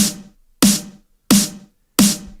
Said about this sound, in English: so I have this snare drum